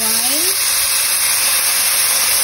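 Wine poured into a hot pan with tomatoes and browned garlic, giving a loud, even sizzle and steam hiss that holds steady, with a brief rising tone at the very start.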